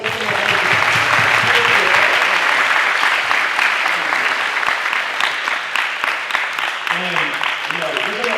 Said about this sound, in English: let's clap it up for ourselves.